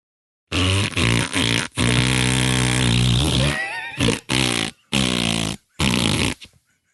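Comedy album of farts arranged to play well-known songs, a string of loud, buzzy, pitched fart tones forming a melody, with a long sustained note followed by short separated bursts and brief gaps between them.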